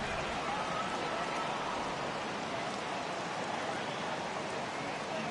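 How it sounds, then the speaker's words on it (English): Heavy rain pours down steadily over an outdoor baseball stadium on opening day, a dense, constant hiss with no pauses and no voices. "it is really coming down out there"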